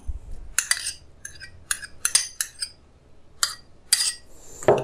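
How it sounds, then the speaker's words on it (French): A spoon mixes a chili, soy sauce, mirin and minced garlic marinade for Korean spicy pork belly, giving bright, irregular clinks and scrapes against the bowl in short bursts, close up, with no talk. "Vous allez mélanger."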